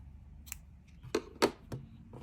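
Red crochet yarn snipped with scissors: a few sharp, separate clicks of the blades closing, close but quiet against a hushed room, with no voices.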